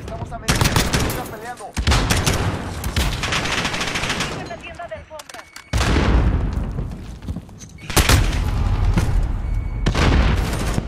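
Loud bursts of rapid gunfire from an M4 rifle, with a booming grenade blast, in the Call of Duty Modern Warfare video game. Repeated dense volleys are separated by brief quieter gaps.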